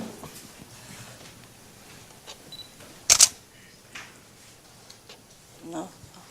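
A Canon camera shutter giving one sharp, loud mechanical click near the middle, with fainter ticks and handling noises scattered before and after over quiet room ambience.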